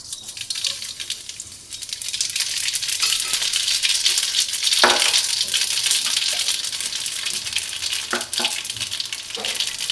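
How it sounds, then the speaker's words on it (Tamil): Mustard seeds and cumin frying in hot oil and ghee for a roasted puffed-rice snack, a loud continuous sizzle with a few sharp spatula scrapes and clinks and no talking. "நெய் சூடாகிட்டு இப்போ கடுகு ஜீரகம் ஜீரகத்தை வந்து சும்மா லைட்டாக கொட்டி வச்சுருக்கிறேன்"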